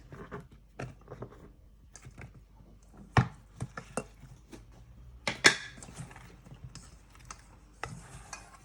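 Courgettes go into a beef and vegetable tagine in a Cookeo Touch WiFi pot, a sparse run of soft knocks and clatters with a few sharper clanks against the pot, fairly quiet.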